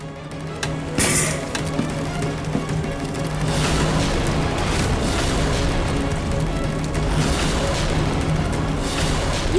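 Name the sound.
air conditioner unit malfunctioning with a bang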